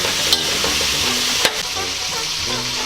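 Meat for spaghetti sauce fries in a pan, a loud steady sizzle with a couple of sharp stirring scrapes, close up and with no voices.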